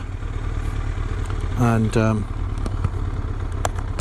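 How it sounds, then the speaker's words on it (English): A Triumph Daytona T300 motorcycle engine runs unevenly with a misfire, a rough idle broken by a brief louder rev and scattered pops, near and clear, with a voice speaking briefly. "No, that's misfiring."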